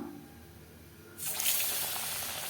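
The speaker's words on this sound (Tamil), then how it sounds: "இப்போது நம்ம ஒவ்வொன்றா போட்டு எண்ணெயில் போட்டு பொரித்து எடுத்துக்கலாம்." Leftover idli pieces dropped into hot oil for deep-frying, a sudden loud, steady broadband sizzle that bursts in partway through after a quiet stretch and keeps going.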